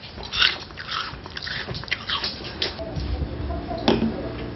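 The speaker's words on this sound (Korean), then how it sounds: "저 설탕 맛이 더 맛있는 게 이게 탁 씹히는 게 있잖아요." Someone bites and crunches sugar alongside apple, with close crisp crunching and chewing noises in irregular bursts, slightly muffled.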